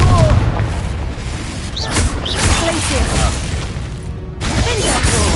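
In the Hogwarts Legacy video game, a Confringo fire spell bursts with a loud, booming blast and crackling magical whooshes, then cuts briefly silent before the rumbling impact noise returns.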